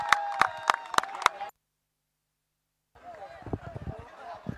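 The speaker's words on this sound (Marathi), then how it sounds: "टाळ्या होऊन जाऊ दे टाळ्या एकदा जोरदार." Cricket spectators clap at a local premier league final, rhythmic sharp claps up close that break off into a silence and then return as looser, denser crowd applause.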